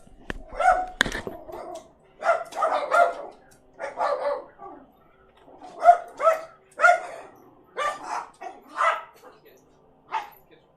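Dogs bark indoors in loud, repeated bursts spread across several seconds, with talking mixed in among the barks.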